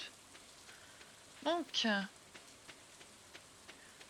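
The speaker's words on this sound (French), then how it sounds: "Je crois qu'il pleut dehors." Rain patters faintly and steadily in the farming game Stardew Valley, a soft hiss under a brief spoken word.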